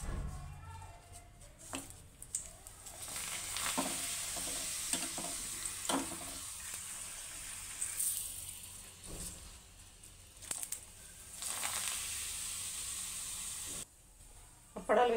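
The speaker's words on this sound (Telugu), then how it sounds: "అప్పడాలు వేసి వేయించుకుందాం." Appadalu (papads) drop one after another into hot oil and fry with bursts of loud, close sizzling and hissing. Intermittent clatter and brief pauses break up the frying, and a voice may be faintly present.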